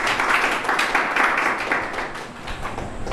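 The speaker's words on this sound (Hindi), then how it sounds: "ताली बजा दो भाई।" Applause and clapping from a gathering at a defence coaching academy in Sansarpur Kheri, steady scattered hand claps that hold at a moderate level for a few seconds.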